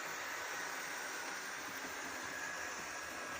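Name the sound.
model train running on a layout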